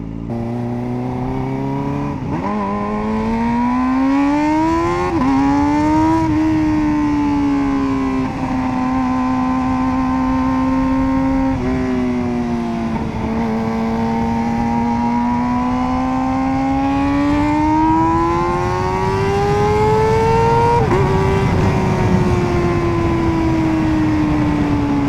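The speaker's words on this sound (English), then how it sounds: "this exhaust pipe, because of its own unique structure, has a resonance that sounds like it's some kind of like race machine" Kawasaki ZX-4RR motorcycle with a full exhaust system, loud and close, its engine revving and climbing in pitch through several rising pulls and partial drops, a continuous high-rpm wail with no talk.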